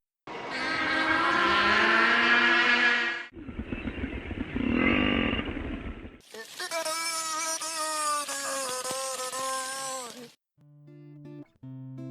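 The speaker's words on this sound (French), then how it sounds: "vous venez d'entendre 3 chants provenant du même animal, le beluga" Three separate beluga whale vocalizations in sequence: a high siren-like wail, a buzzing motor-like rumble, then a bright, wavering whistle, followed by a few short tonal blips.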